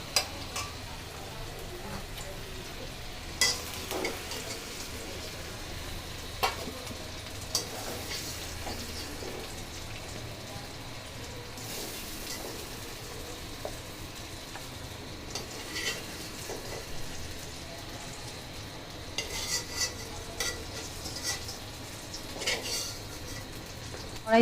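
Cucumber pieces fry in oil in a pan for a hilsa fish dish, giving a faint, steady sizzle with occasional light stirring clicks and scrapes, and no voices.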